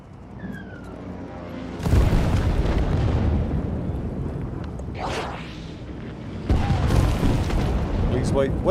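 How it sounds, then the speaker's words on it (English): Heavy booming blasts from a bombing strike in Civilization 7 roll out in two loud waves with a whooshing sweep between them, rumbling and sustained rather than sharp. "What I should just do is bomb him instead."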